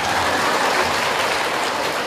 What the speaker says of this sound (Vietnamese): thôi khích lệ cho tràng pháo tay.